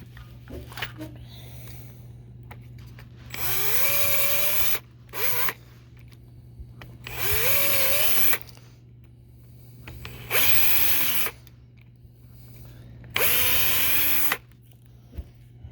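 Power drill boring four holes for output bolts while building an amplifier, heard as four loud bursts of whining, rising motor speed separated by pauses, close up, with a steady hum underneath throughout.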